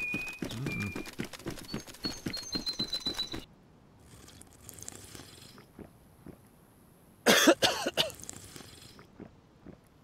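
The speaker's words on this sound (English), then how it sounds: "Is that you coughing, or is it me?" A player character coughs from the cold in DayZ: a rapid run of rough bursts at first, then quieter scattered sounds with one sharp loud burst midway, alone without talk.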